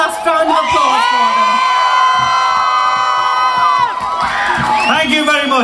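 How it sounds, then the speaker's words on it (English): An audience at a Christmas lights switch-on in Stone cheers loudly up close, with high-pitched whoops and children's shouts sustained throughout and a brief lull near the end before the cheering picks up again. "can we just have one last round of applause for them?"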